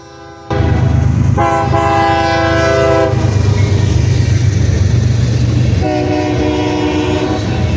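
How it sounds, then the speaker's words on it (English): A CSX general merchandise freight train passes close and loud, its horn sounding in several long blasts over a continuous rumble of rolling cars and wheels. "Up first is a CSX general merchandise with a nice horn show from the crew."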